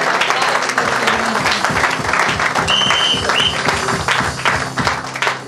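A church congregation bursts into loud, sustained applause for the Lord, rhythmic clapping in a dense crowd with voices and shouts mixed in throughout.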